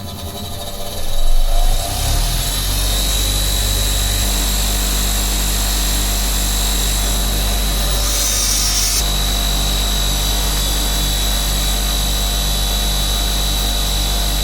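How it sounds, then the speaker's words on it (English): A bench wire wheel spins up and buffs gunky brake pad pins from a Kawasaki Versys 1000 motorcycle, a steady loud whirring grind with a motor hum that starts after a short rise and runs continuously. "So these are the gunky pins from the pads, 2 of those. I'll spin them up on the wire wheel."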